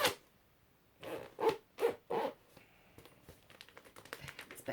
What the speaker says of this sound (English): It's best not to jam things in the zip